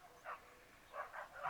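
Neighbors' dogs barking in a few short, separate yips, somewhat distant and faint against a quiet outdoor background, with no one talking.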